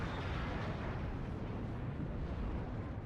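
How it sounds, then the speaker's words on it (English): Rumbling, continuous blast noise from a bombing run in a Warhammer 30K mod game, a dense low roar of overlapping explosions sustained at steady loudness throughout. "Little bombing run there from Miguel."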